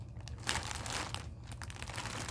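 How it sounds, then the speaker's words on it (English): Plastic bag packaging crinkles and rustles as it is handled close by, a quiet, continuous crackling with a few sharper crunches and no talking. "these were in a plastic bag and in plastic"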